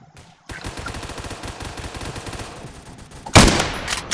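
Gunfire in the video game Phantom Forces, a rapid string of automatic shots crackling in quick rhythm, then one loud sharp blast near the end.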